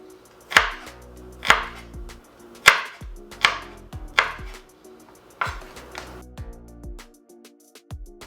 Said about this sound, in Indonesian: Kita potong bawang merah.